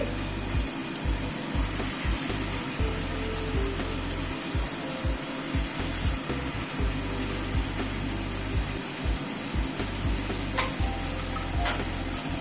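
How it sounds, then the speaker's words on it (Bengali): Chicken curry with potatoes sizzles in a pan as coriander powder is stirred in; a steady frying hiss runs under repeated scraping stir strokes, close and clear. "ধনের গুঁড়োটাকে মিশিয়ে দিচ্ছি।"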